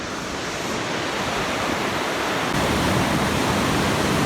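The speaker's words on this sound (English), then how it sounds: "There's a cut, and it's actually got water pouring out of it right here." Water pours out of a cut in the sand on a beach beside breaking surf, a steady, loud broadband rush with no pauses that grows slightly stronger partway through.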